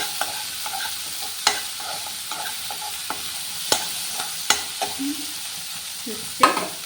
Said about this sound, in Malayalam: നമ്മൾ തക്കാളി ഇട്ട് കൊടുക്കാം നമ്മൾ പച്ചമുളക് ഇട്ട് കൊടുക്കാം കേട്ടോ നന്നായിട്ട് വഴറ്റി തക്കാളിയൊക്കെ ഒന്ന് ഉടയണം